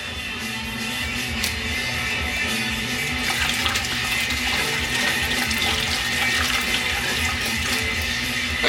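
Apple cider vinegar, two cups of it, pours in a continuous liquid splashing and gurgling stream, steady and close throughout.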